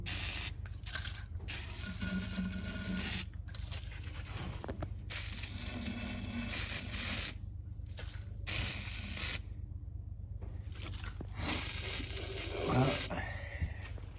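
An aerosol can hisses in several bursts of spraying into the carburetor of a 1951 Chevy, some short and some long, separated by pauses, with a steady low engine-like drone underneath.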